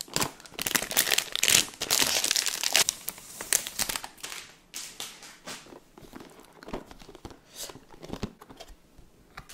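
Package being opened, with close, busy crinkling and rustling of plastic packaging, loudest at first and then continuing as softer scattered crackles and taps.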